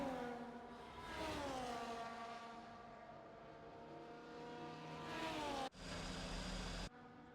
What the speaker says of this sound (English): Huge revving.